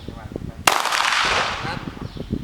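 A single sharp pistol shot fired at close range during a tactical pistol course, a loud crack with a brief echoing tail, while people talk before and after.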